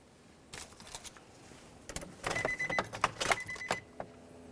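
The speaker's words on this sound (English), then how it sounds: "Now let's put the key in the on position." A key jingles as it slides into the ignition of a 2004-2015 Nissan Titan and is turned to the on position, with several sharp clicks and faint steady chime tones, close and fairly quiet.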